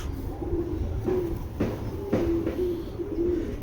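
Tournament flying pigeons coo close by in a short series of soft, low, rolling coos, repeating roughly every half second over a steady background murmur.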